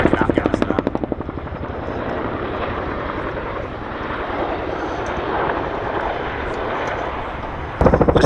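A Boeing Chinook HC.6 twin-rotor helicopter in a flying display at Duxford Air Festival, its loud rhythmic blade thump close at first, then a sustained roaring wash as it manoeuvres, with a commentator talking over it.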